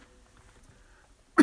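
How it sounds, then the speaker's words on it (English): One short, sharp cough at a live-streamed music night, bursting out at the very end after near silence. "Always good to get a cough just before you sing."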